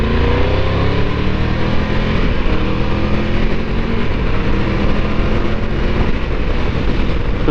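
A Triumph Tiger 1200 GT Pro motorcycle engine pulls steadily in third gear on a road ride, a loud continuous drone with rising harmonic tones blended with wind rush.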